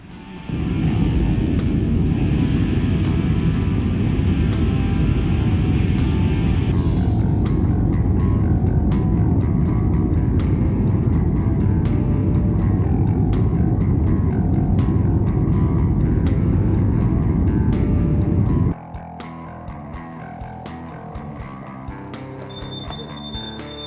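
Airplane cabin noise in flight, heard from a window seat: a loud, steady, close engine and airflow roar holds for most of the clip, then drops abruptly to a quieter hum near the end.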